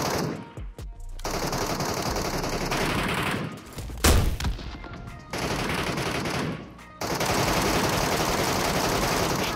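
Sustained rapid gunfire from an automatic weapon, loud and continuous, with brief pauses and a sharper blast midway, in the video game PUBG Mobile's Metro Royale mode.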